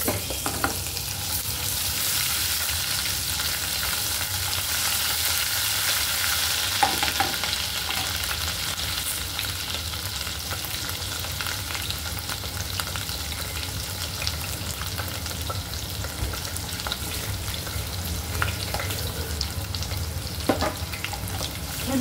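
Curry leaves, garlic and a pinch of turmeric crackle in hot oil for a tempering. The frying is loud and continuous, with occasional stirring clicks and no voices.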